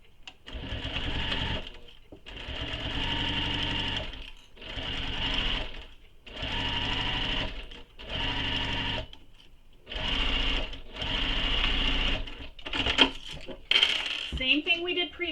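A sewing machine stitches a seam on a circular fabric bag, running in about seven close, steady bursts separated by short pauses, followed by some light handling clatter at the end.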